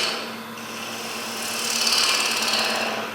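A sharp gouge cuts a wooden sphere spinning on a lathe, giving a continuous hissing scrape that swells and fades as the tool moves around the curve.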